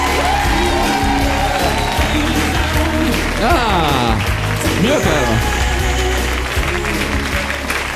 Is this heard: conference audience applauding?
yes